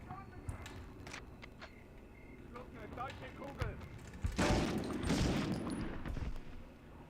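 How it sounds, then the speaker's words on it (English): Scattered gunshots from the Medal of Honor video game, a few sharp cracks early and a heavier burst of fire midway, mixed with movement and mechanical sounds at moderate level. "Someone else is shooting at me"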